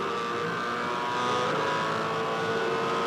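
A 2006 Supercars race car accelerates out of turn 6 at the Perth 400. The engine gives a loud, sustained droning roar that builds steadily with careful throttle, heard from on board with no pauses.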